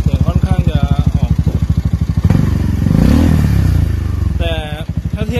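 Honda Forza 300 scooter with a fiberglass-packed exhaust idles with a steady low thumping pulse, then revs up in a rising roar before settling back to idle, close and loud.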